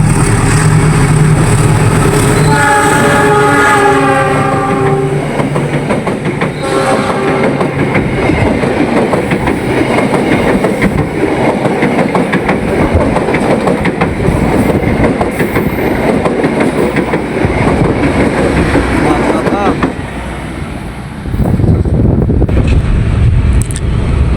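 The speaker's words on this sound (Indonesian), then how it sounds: "Ini dia ya kereta api Lodaya. Silang ya dengan kereta api Cikuray." A Lodaya passenger train rushes past at speed near Nagreg station, its sustained horn blaring with layered tones over a loud rumbling roar and clatter of wheels, continuing steadily before a brief dip near the end.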